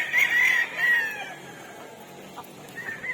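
A young rooster, a stag, crows at a farm with a short, fairly faint cock-a-doodle-doo at the start, followed by quieter clucks and soft background noise.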